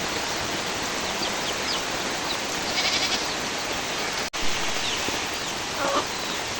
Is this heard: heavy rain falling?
yes